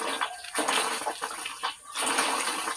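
Water is poured in uneven gushes, splashing and sloshing loudly at close range with short pauses between pours and no talk.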